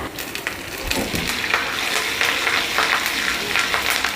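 Steady crackling sizzle of curry leaves frying in hot oil for a dal tempering, close and fairly loud, with bursts of popping and spattering throughout.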